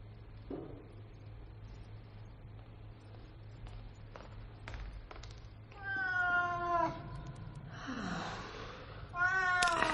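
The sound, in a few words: cat meowing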